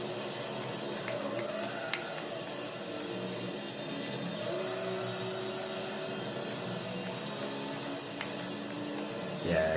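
A race car engine from Gran Turismo on the PS1 hums steadily and fairly quietly throughout, a continuous droning whine with slight pitch shifts and a brief louder swell at the very end.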